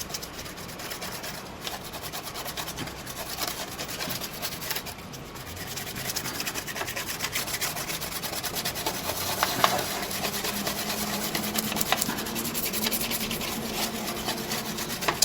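A soft, continuous rubbing sound comes from alcohol cleaner being spread over a beer-spilled Dell Inspiron 1525 laptop motherboard, a quiet close-up scrubbing that runs on with no talking.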